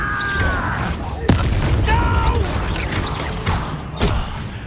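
Incendio fire spell cast in the video game Hogwarts Legacy, a sudden sharp blast with a booming burst, then crackling and further pops amid game combat sounds.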